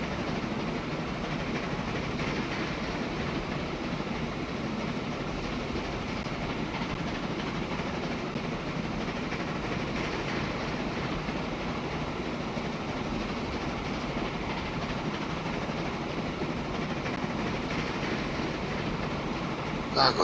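Trains running on a rail network in the video game Transport Fever 2, a steady, continuous rumble of rolling wagons and engines that holds an even level throughout, with no talk over it.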